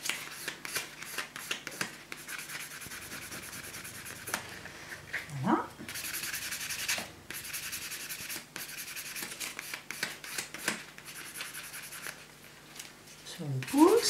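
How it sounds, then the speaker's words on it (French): A buffer rubs across a natural fingernail during a traditional manicure in soft, repeated scratchy strokes, with quiet talking throughout. "je passe la surface blanche, ce qui va donner un brillant à l'ongle naturel"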